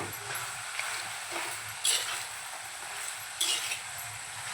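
Mutton is stirred in a pan with Malvani masala and coriander powder for a dry sukka: a steady close sizzle, with a few sharper scrapes of the spoon against the pan and no talking.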